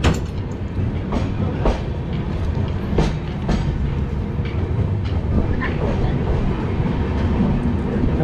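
The Kerala Express pulls out of a station with a loud, continuous rumble heard from inside the train, and rhythmic clickety-clack wheel beats recur throughout.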